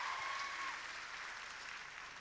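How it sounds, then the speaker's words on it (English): An audience applauds at a talk, a steady wash of clapping heard from a distance and fading slightly, with no voices over it. "I'll tell her she got a round of applause from all you lovely people."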